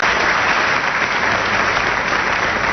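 A studio audience at a television talk show breaks into loud, dense applause, a continuous roar of clapping filling the whole moment without speech.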